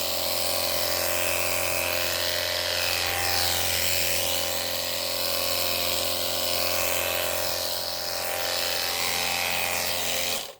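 A battery-powered jet washer sprays garden plants, giving a loud, continuous close-up whine and hiss of the motor and water jet that holds steady throughout.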